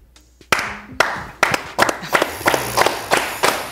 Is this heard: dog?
no